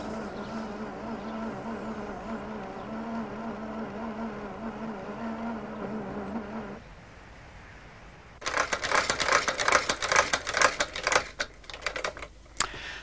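A homemade sewing machine with a toothed-belt drive runs with a steady droning hum for several seconds and then falls quiet. After a pause comes a burst of rapid, loud clattering.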